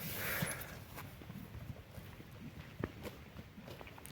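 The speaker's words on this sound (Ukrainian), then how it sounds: "коні файно пасут" Soft, irregular hoof steps and rustling of horses grazing outdoors in the Carpathian mountains on an autumn morning, with a steady breeze or ambient hiss behind them; no voices.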